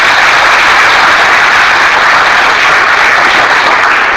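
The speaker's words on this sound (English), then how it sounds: "I will raise my hand, you should clap." Classroom of teacher trainees clapping hands together on cue, a dense, steady, loud patter of many hands filling the room without pause.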